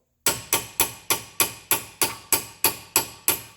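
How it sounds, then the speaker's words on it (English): Hammer blows driving out the lower ball joint on a 2013 Hyundai Santa Fe 2.0 Turbo: eleven sharp, loud metallic strikes in an even, steady rhythm, close by and alone. "Now, once you have it wedged open a little bit, begin hammering again in much the same fashion."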